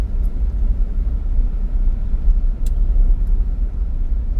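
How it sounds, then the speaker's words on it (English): Car driving slowly through a parking lot at a housing development in the Philippines, heard from inside as a steady low engine and road rumble without talking. "I'll drive through the parking lot and I'll take us."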